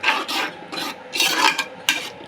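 Raw jackfruit pieces being stirred and tossed together in a pan for biryani, giving soft rasping, scraping bursts in an irregular rhythm, fairly close, with no talking.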